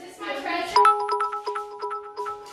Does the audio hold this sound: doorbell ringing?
yes